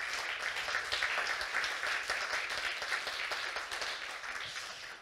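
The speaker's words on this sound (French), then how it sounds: "On peut applaudir notre speaker." An audience applauds at a French corporate talk on agility and product value, a steady broadband patter of many hands clapping continuously for about five seconds before tapering at the end.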